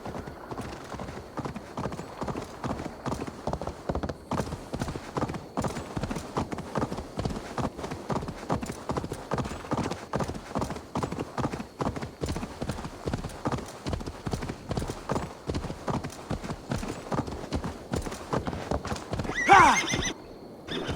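Horse hooves clip-clopping in a steady galloping rhythm while riding in Assassin's Creed Valhalla, close and continuous for the whole stretch, with a brief louder burst near the end.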